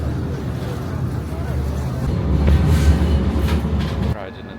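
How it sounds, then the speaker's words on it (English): A tram in Istanbul rumbles along a street with a low mechanical drone and rattling, growing louder midway, with faint voices in the background. "Riding a tram."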